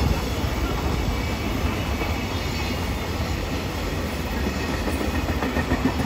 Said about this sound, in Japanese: そしてこちらは EF510 の耐久列車。